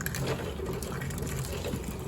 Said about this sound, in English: Now to sanitize and sterilize the jar, pour hot water onto the jars.